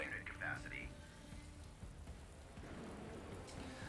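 Rain weather in the Star Wars Empire at War video game, a soft, steady hiss of falling rain heard faintly in the background, with a brief game sound near the start.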